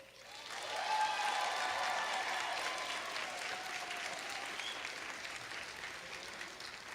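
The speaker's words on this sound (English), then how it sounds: "y'all give them another round of applause" Audience applause at a youth pageant swells within the first second into steady, dense clapping from a large crowd, then tapers slightly while staying sustained to the end.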